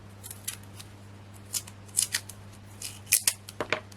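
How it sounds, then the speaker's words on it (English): Scissors snipping Hunkydory masking tape at a craft table, a scatter of sharp, close cuts and small taps spaced irregularly over a low steady hum, with no speech. "just going to pop a little bit of masking tape under there"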